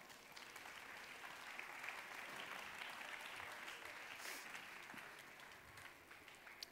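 An audience at a Miss Austria pageant show applauds for a designer, dense continuous clapping with scattered cheers, steady and moderately distant throughout.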